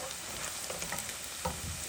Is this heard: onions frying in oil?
yes